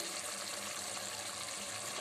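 Water used to boil chickpeas pours into a cooking pot for chana pulao, making a steady, even gushing wash that runs without a break for two seconds, close and unbroken by speech.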